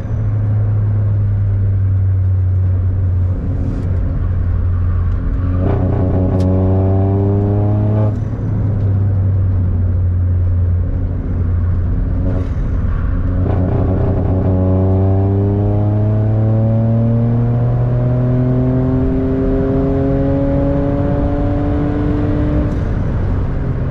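A VW Up GTI engine pulls hard while driving in third gear only, its drone climbing steadily through two long acceleration runs, loud and close from inside the car.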